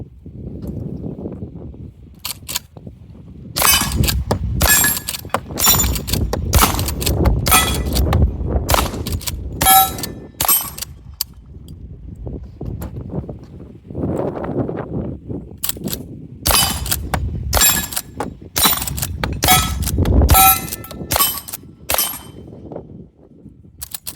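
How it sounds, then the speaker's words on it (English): Rapid rifle shots from a Smith & Wesson 1854 Stealth Hunter and a Marlin 1894 CSBL lever-action fired outdoors, sharp loud cracks in quick irregular strings with metallic clanks of cycling actions between them. "we'll just finish off this video with some shooting, just some fun shooting between the two guns"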